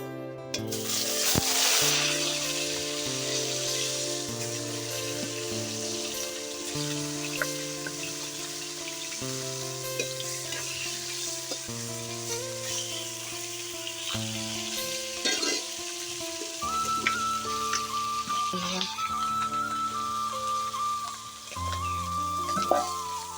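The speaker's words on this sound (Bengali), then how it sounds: "মাছের মাথাগুলোকে ভেজে নেবো" Fish heads frying in hot oil in a home kitchen, a continuous crackling sizzle that runs throughout at moderate level, with clinks and scraping of utensils and a low hum underneath.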